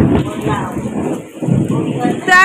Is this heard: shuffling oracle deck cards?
no